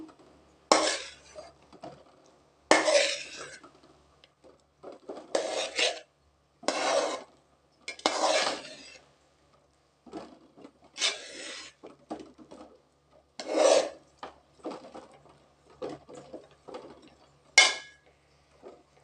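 A spoon stirs mochai biriyani made with parboiled rice in a pot, giving a series of separate scraping and clanking strokes against the metal at irregular intervals, close but fairly quiet, with silent pauses between.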